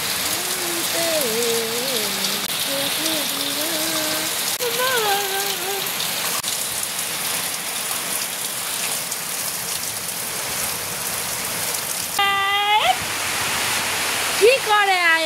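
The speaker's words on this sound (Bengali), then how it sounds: "কত পরিমাণে বৃষ্টি" Heavy rain pours down during a storm, a dense, steady hiss that lasts the whole time, with a voice talking intermittently over it.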